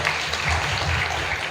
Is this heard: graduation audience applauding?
yes